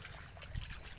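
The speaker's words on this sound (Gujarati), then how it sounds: "અને અહીંયા ચાલુ છે પાણી" Irrigation water runs steadily through a farm field, a soft, continuous trickling and flowing with no voices.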